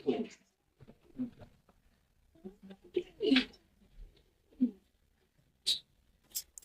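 Shirazi and Lahori pigeons cooing at a pigeon sale, with short, low, scattered coos separated by gaps and a faint voice now and then.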